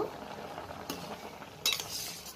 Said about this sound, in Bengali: এখন হয়ে গেছে, এটা আমি ছেঁকে নেব।